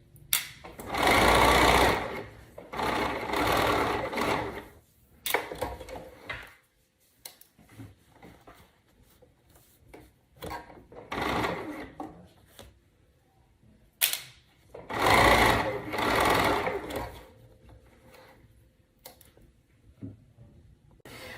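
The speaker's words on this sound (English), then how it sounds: "So now you're going to baste along the edge and the top that you pinned." A sewing machine bastes along the edge of leggings fabric, running in loud, close bursts of fast mechanical stitching lasting a few seconds each, broken up by quieter gaps with clicks and fabric handling.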